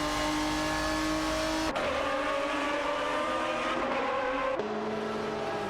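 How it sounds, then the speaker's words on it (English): Ferrari 550 GTS and Aston Martin DBR9 race cars in a racing video game, with loud, continuous engine drone holding steady, then shifting pitch twice as gears change or the cars jostle, with brief tire noise. "Mukembakken in the Ferrari 550 GTS and Sebring in the Aston Martin DBR9 are locked in a tight battle for the 9th position."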